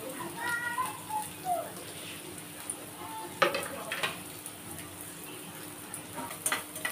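Crushed ginger, garlic and green chillies fry in hot oil in a pan for chilli chicken, giving a steady close sizzle with scattered stirring scrapes and small clinks.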